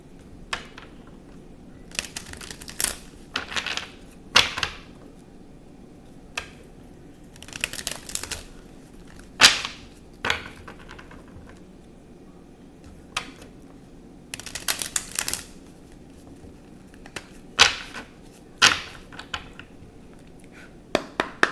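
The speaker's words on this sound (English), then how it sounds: "I'm going to shuffle the cards." Short bursts of tarot cards being shuffled and riffled up close, coming in irregular flurries separated by quiet pauses.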